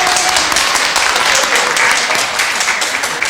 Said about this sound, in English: I better not clap too loud because I'm working with him.